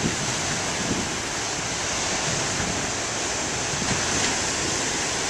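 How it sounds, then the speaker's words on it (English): Moderate ocean surf breaking in a steady, continuous wash, with low wind rumble on the microphone throughout and no distinct individual wave crashes standing out. "don't think the waves are all that big as compared to November 16th"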